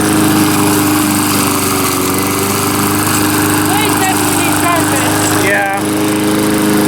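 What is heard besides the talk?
lawn mower engine running with loose muffler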